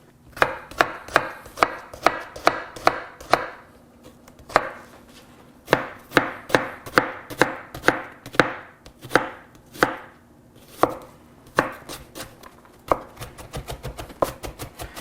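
A knife chops an onion small on a cutting board for guacamole, sharp close taps in quick irregular bursts with short pauses between runs.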